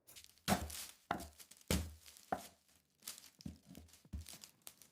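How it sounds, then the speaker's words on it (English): A knife chops an onion on a cutting board in a kitchen, making a series of crisp, irregular, close-up cuts. "let's get started chopping the onion"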